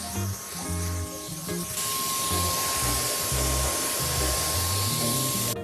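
A spray gun or aerosol hisses steadily and loudly as paint, undercoat or clear water-based polyurethane is sprayed onto furniture, running for several seconds over light background music.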